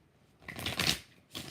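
Tarot cards being shuffled by hand in a quiet room, one brief soft riffle rising and fading, then a second starting at the end, faint and close.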